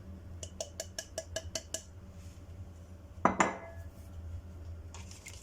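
A spoon or whisk clinks repeatedly against a mixing bowl while cake batter with lemon zest and flour is stirred, a quick run of close metallic taps followed by a scraping clatter, no talk.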